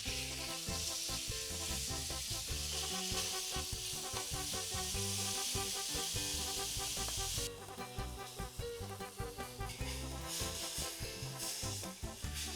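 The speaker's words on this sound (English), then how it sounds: "We'll start with cooking the meat in the pan." Meat sizzles while cooking in a pan, a continuous loud crackle with a busy, patterned texture, close by and without talk. The sound shifts and grows somewhat lighter partway through.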